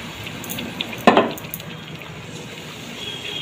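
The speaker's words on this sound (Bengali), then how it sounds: "এবার এই বাটনা ধোয়া জলটা একটু দিয়ে দেবো।" Rinse water from a bowl of ground spice paste is poured into curry masala frying with onion, ginger and garlic for a potato, pointed gourd and soybean curry, giving a brief splashing sizzle burst near the middle over a steady background hiss.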